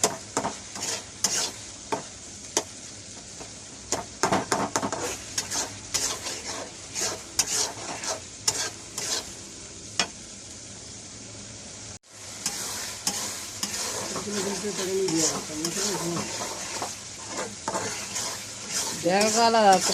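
Tuna pieces fry dry in tomato masala with vinegar and no water, stirred in the pan: repeated scraping and scratching strokes over a low sizzle, with a brief pause midway, then a more continuous frying hiss while faint voices murmur.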